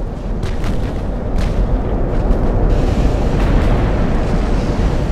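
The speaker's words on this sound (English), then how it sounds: "Oh, she's got an ammo explosion." A warship's ammunition magazine detonates in Ultimate Admiral: Dreadnoughts, the HMS Nelson battle rolling out as a loud, sustained low rumble of explosion and surf-like roar with a few sharper booming bursts on top.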